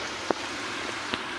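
Heavy rain falling outside makes a dense, steady hiss, with a couple of sharper drip impacts on a surface during a brief stretch with no talking.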